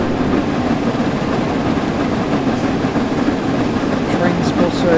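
In the Train Sim World 4 railway game, an Azuma express train approaches on the East Coast Main Line, a steady loud rumble of wheels and engine noise filling the whole stretch, with faint high squeals near the end.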